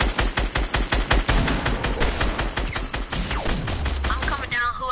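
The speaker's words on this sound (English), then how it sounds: "Somebody is shooting you." Rapid automatic gunfire in a video game, loud and close, rattles in a fast even stream through most of the stretch before easing off near the end.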